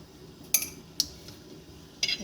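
Metal utensils clink softly against a dish while boiled tapioca is mixed with sugar and salt, three sharp clinks scattered over a couple of seconds against a quiet background.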